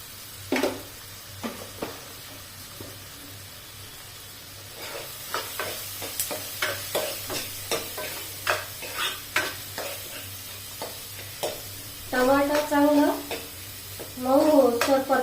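Dal with spinach frying in a pan for dal palak, a spoon scraping and stirring in repeated strokes over a steady low sizzle, close and moderately loud, with louder bursts of frying toward the end.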